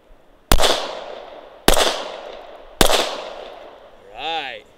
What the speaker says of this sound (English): 3 rounds, center mass. Shoot with efficiency, but don't miss.